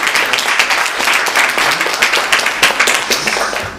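A Sunday worship congregation breaking into loud, dense applause to welcome visiting guests, many hands clapping steadily for the full span with no voices on top.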